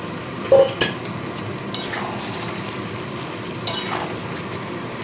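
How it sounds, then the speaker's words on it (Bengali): Fried prawns are tipped with their oil into a pan of spiced potatoes and pointed gourd, with a few sharp utensil clinks and scrapes over a soft, steady sizzle. "এবার এর মধ্যে ভেজে রাখা চিংড়ি মাছটা তেল সমেত যেটা রেখেছিলাম সেটা আমি দিয়ে দেবো"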